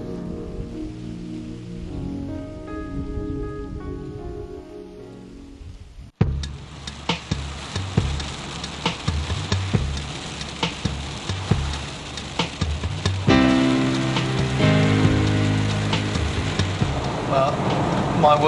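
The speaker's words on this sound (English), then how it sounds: "and it's raining" Rain falling around a car driving in Romania, heard as a steady broadband patter and hiss over low road rumble, preceded by a few seconds of soft music before the noise swells abruptly.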